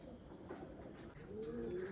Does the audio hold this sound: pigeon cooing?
yes